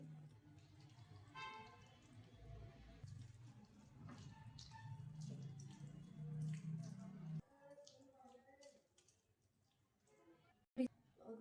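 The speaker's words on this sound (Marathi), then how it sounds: "एक वाटी थोडस अर्धी वाटी पाणी आपण याच्यात टाकून घ्यायचे" Water pours from a small bowl into semolina in a mixing bowl, a soft, quiet splashing pour lasting several seconds followed by a few clinks of the bowl, with someone speaking over it.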